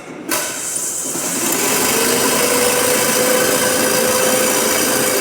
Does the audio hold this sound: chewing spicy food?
no